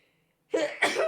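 A sharp sneeze bursts out after a short silence, close and loud, followed by a second quick burst.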